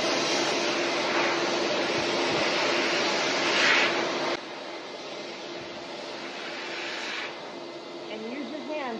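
A high-velocity pet dryer blasts steadily through a terrier's coat, a loud broadband whoosh that shifts in tone as the nozzle moves, with a voice talking partway through.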